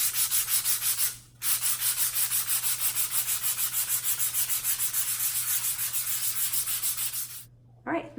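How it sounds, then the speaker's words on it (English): Steady, rhythmic rubbing of 220-grit sandpaper wrapped on a sponge over stenciled letters, a close scratchy back-and-forth stroke repeated many times with one brief pause. "I just take a piece of 220 grit sandpaper."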